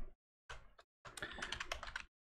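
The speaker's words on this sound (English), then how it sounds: "I'm typing multi-block" Keys clatter on a computer keyboard in a few short quiet bursts of typing, the last a longer rapid flurry, with no voices.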